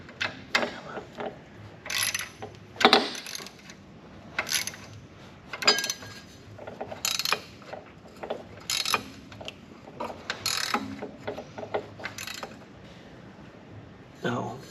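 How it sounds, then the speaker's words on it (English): A wrench working a nut on the underside of a Jeep XJ during a 3-inch lift install, repeated close ratcheting clicks in short bursts with pauses, while someone talks at times. "It's just turning a nut on the bottom."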